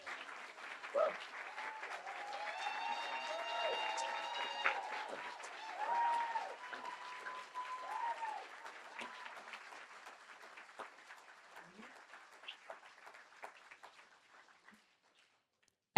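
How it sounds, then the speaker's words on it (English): An audience at a distinguished lecture breaks into a sustained round of applause, steady and dense for most of the time before thinning out and fading to silence. Some faint talk and crowd noise can be heard mixed in. "Can we have one more round of applause,"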